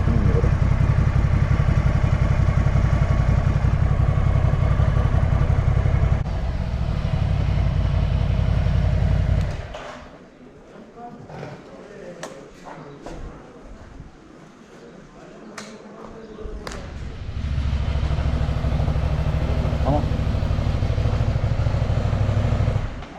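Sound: Ducati Scrambler motorcycle engine stuttering while riding

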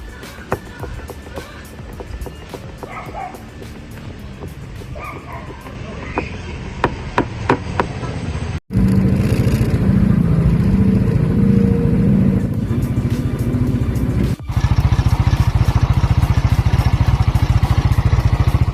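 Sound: motorcycle engine bushing rattle

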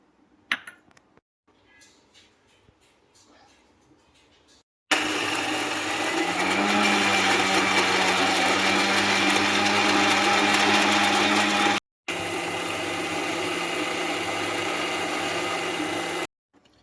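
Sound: mixer grinder grinding green gram and green chili batter

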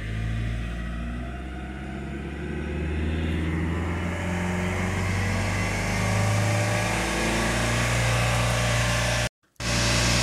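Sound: Vauxhall Antara engine revving high during DPF regeneration

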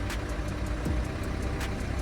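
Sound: used car engine starting and idling

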